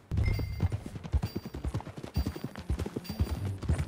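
Rapid, rhythmic hoofbeats of a horse clip-clopping close by in the video game Red Dead Redemption 2, steady and continuous with no voices.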